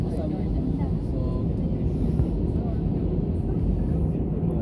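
An Airbus airliner taxis slowly toward the gates after landing at Las Palmas airport on Gran Canaria, its engines giving a steady low rumble heard from inside the cabin while people talk.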